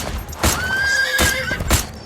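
A horse whinnies in a long, high neigh close by, while sharp hoof clops strike at intervals around it.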